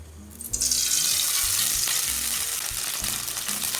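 Chopped tomatoes dropped into hot mustard oil burst into a loud, bright sizzle that stays dense and steady close by, with no speech.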